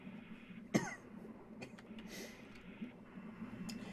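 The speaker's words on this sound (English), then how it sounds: "Sorry if I cough and sniffle a lot." A single sharp human cough bursts out near the close mic early on, followed by quieter shuffling and faint breathy noises over a low steady background hum, with no talking.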